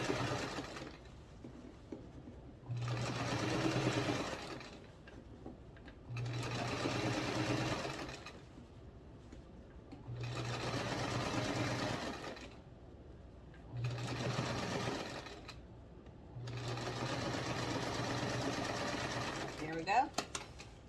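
A sewing machine stitches fabric under the presser foot. It plays as five separate bursts of steady whirring with a low hum, and quiet pauses between them where the fabric is moved.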